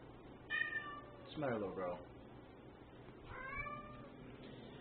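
A pet cat meows several times, plaintive calls at a moderate distance in a room, with a person speaking gently to it between the meows.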